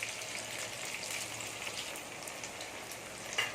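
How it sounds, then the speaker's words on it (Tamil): Onions sautéing in a pan for a Tamil-style anchovy fish curry, a steady soft sizzle and crackle throughout, even and continuous with no talk. "வெங்காயம் நல்லா வதங்கிருச்சு"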